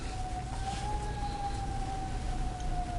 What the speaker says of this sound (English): Uh-oh, there's sirens.